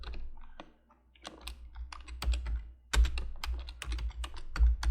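Subtitle text is typed on a computer keyboard in short clusters of crisp, close key clicks with small pauses, a couple of heavier thumps from the space bar or enter key, and no speech.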